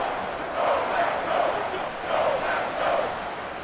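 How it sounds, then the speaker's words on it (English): Big NFL stadium crowd at a Rams vs. Packers game, a dense roar that swells in repeated surges as the noise builds on a third-and-long play, loud and continuous. "This crowd turning up the decibel level."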